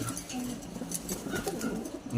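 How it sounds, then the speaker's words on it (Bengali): A male wild Jalali pigeon from Dhaka coos in a soft, repeated rhythm close by, with faint background noise around it. "ওই যে দেখেন ডাকতেছে নর একটা"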